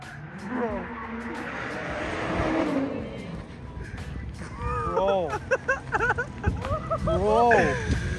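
An 850-plus horsepower twin-turbo BMW E92 M3 being driven hard over bumps, engine revs rising and falling in loud sweeping pulls with tire noise, while voices talk excitedly over it throughout.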